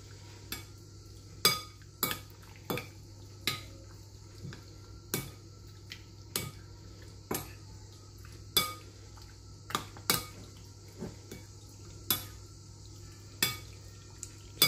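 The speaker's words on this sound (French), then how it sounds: "Et là je vais mettre l'huile. Voilà, هنا غنديرو شويه الزيت وغادي نخلطو. Donc là on mélange." Oil being stirred into a chicken marinade in a bowl for an Asian-style caramelised chicken skewer recipe, with a utensil clinking against the bowl in a steady series of sharp taps.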